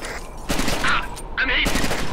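Gunfire erupts in a Rainbow Six Lockdown firefight in a desert village: a few sharp bursts in quick succession, close and loud, with a short gap between volleys.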